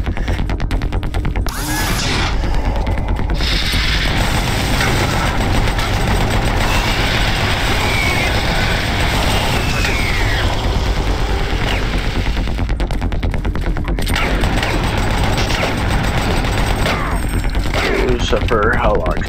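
Rapid machine gun fire in Doom 3, sustained and loud, with dense bursts running through most of the stretch over gritty game ambience and effects.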